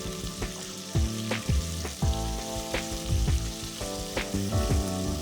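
Sliced onions and green chilies hit hot oil with spices, giving a steady close sizzle broken by repeated clinks and scrapes of a stirring spoon against the pan.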